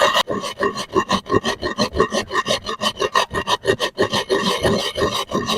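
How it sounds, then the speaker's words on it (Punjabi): Fenugreek seeds being rubbed and crushed by hand, a steady rhythmic rasping and grinding, close and repeated in quick strokes with no talking. "ਆਪਾਂ ਮੇਥੀ ਦਾਣਿਆਂ ਨੂੰ ਚੰਗੀ ਤਰ੍ਹਾਂ ਰਗੜ ਲੈਨੇ ਆ"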